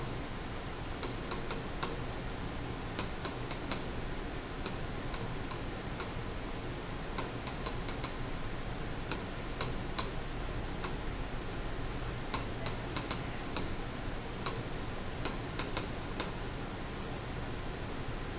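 Rapid clicks of graphing calculator keys being pressed in quick bursts, small sharp taps close up over a faint steady hiss, with no talking.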